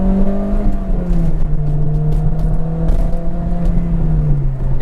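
An Acura RSX engine revs hard while accelerating, a loud droning note that rises and sags steadily from start to end with no talk.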